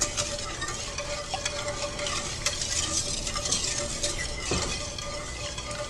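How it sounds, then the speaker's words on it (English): A whisk stirs sugar into warm milk in a bowl for homemade yogurt, giving a steady, close scraping and swishing with light metallic clinks throughout. "Whisk that around."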